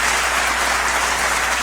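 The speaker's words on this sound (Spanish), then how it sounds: "les pido que les brindemos un aplauso a nuestros ilustres invitados galardonados este día" Brief burst of dense, steady applause from a university audience honouring award-winning guests at a UNAM Faculty of Law congress, loud and continuous with no speech.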